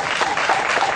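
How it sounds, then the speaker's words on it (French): Concert audience applauding at a slam poetry show, a dense, loud wash of many hands clapping together, continuous for the whole moment. "Applaudissements."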